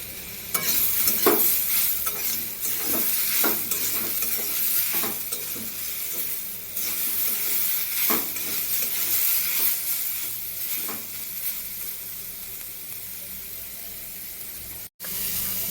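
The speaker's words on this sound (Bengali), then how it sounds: "এইভাবে ভালো করে ভেজে নেব, লাল লাল করে।" Steady frying sizzle fills the pan as katla fish fries with turmeric and salt, broken by repeated scraping strokes of a spatula, close and fairly loud with no talking.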